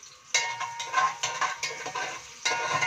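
Garlic sautéing in a few spoons of oil, a soft sizzle broken by several bursts of spoon-stirring and scraping against the pan, close and fairly quiet.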